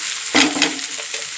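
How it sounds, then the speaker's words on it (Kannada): Tomato and vegetables frying in a pan with a steady sizzle, interrupted by a couple of brief stirring scrapes near the start. "ಇದು ಕೂಡ ಚೆನ್ನಾಗಿ ಫ್ರೈ ಆಗಬೇಕು ಚೆನ್ನಾಗಿ ಫ್ರೈ ಆಗಿದೆ"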